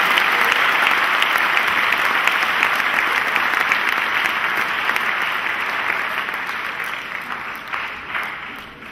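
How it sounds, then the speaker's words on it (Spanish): A church congregation applauds during a Spanish-language Christian sermon service, a loud, continuous roar of many hands clapping that stays full for most of the stretch before easing off near the end. "Denle un aplauso al Señor Jesucristo, hermano."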